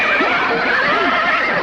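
A horse whinnies in an Indonesian radio audio drama, one loud, close, quavering neigh that fills the brief moment without talk.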